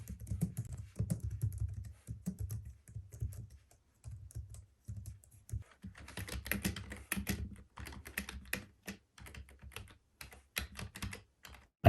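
Soft, quiet typing on a Logitech MX Keys keyboard with rapid, irregular keystrokes throughout, close by, with a brief pause before the tapping picks up again.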